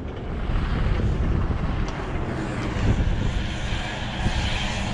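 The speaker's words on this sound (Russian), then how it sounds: "Ну как этот, как Боинг какой-то на взлет пошел. Так и этот на подъем на этом УАЗике." UAZ off-road vehicle engine straining as it climbs uphill, a loud continuous roaring drone with wind buffeting the microphone, steady throughout with no talk.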